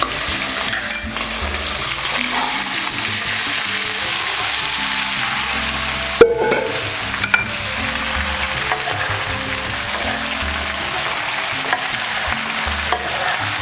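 Boiled, drained chickpeas tossed into hot oil with curry leaves and stirred, a loud continuous sizzle with scraping and occasional metallic knocks of a spoon against the pan, close up and without talk.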